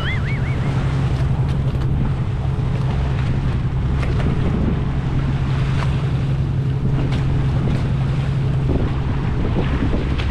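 A fishing vessel on a sea trial runs on one engine, giving a steady low drone under constant wind buffeting and water noise at sea, continuous throughout with no pauses.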